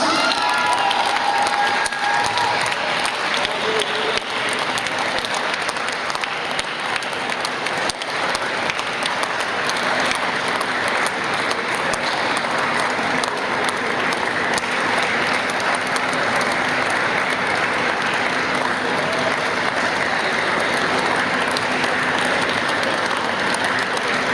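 Spectators applaud Halifax, winners of the 2018 wheelchair rugby Challenge Cup final, with long, unbroken clapping mixed with cheers and children's shouts echoing through a big venue.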